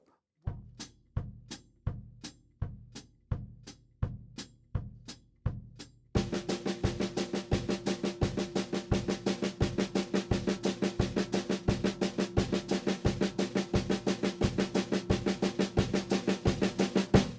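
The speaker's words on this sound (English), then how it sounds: "So get the feet going for a couple measures, then bring in the hand playing 16th notes." Drum set samba groove: kick and hi-hat feet thump alone in a steady pulse for about six seconds, then continuous 16th notes on the snare join in, dense and even over the feet, with no accents and no voices.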